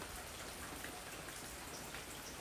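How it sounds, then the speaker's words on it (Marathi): Heavy rain pours steadily onto a muddy paddy field during rice planting, a dense, even patter close by with no break and no voices. "मस्त पाऊस आलाय जोरात."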